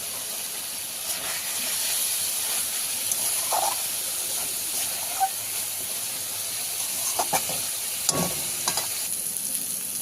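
Tangra fish cooking in a spice paste in oil, a steady hiss of frying with occasional scraping stirs and small pops, close and fairly loud, no talk.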